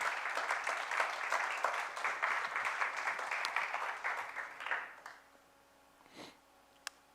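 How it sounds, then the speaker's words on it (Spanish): A congregation applauds loudly during a Spanish-language church sermon, with dense, sustained clapping for about five seconds before it fades quickly to near silence, followed by a few isolated faint sounds. "Dale un fuerte aplauso al Señor."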